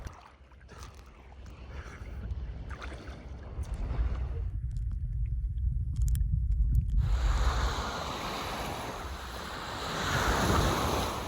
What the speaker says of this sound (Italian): Questo è il mare dell'isola di Sal a Capoverde.